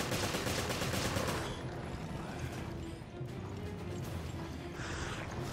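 Gunfire in the survival-horror game Resident Evil Revelations: a rapid burst of dense shots in the first second and a half, then a steady rumbling game backdrop with softer hits and a brief flare of noise near the end.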